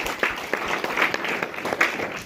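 A church congregation applauds during a sermon on the baptism of repentance, producing a short burst of dense, overlapping clapping from a crowd.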